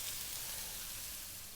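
Garlic, onion and red chili toasting in a pan for a Filipino pork loin chop gravy give a steady, close crackling sizzle that holds evenly throughout without talk.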